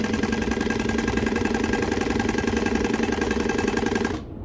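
Juki DU-1181N industrial walking-foot sewing machine running with heavy T135 thread, a steady fast mechanical whir and needle rattle at an even pace for about four seconds before stopping.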